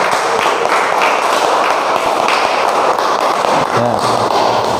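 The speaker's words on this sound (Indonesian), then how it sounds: "Tepuk tangan." Loud classroom applause at a vocational high school (SMK), dense rapid clapping from many students filling the room, with a brief voice near the end.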